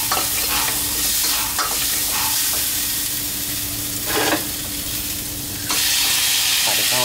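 Chicken wings sizzle loudly and steadily in a hot pan, with occasional scraping and stirring sounds over the constant frying hiss.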